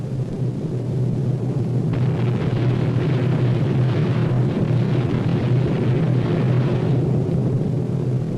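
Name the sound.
500-pound bombs exploding on gun emplacements, WWII film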